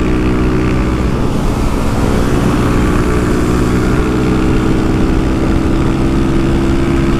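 A modified Honda Start 160 motorcycle engine with a 16-tooth sprocket and no air filter runs loud and close with a steady, rough drone throughout, no voices.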